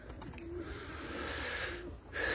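White Istanbul pigeons in their coop, soft low cooing calls heard close amid a quiet rustling background, with no speech.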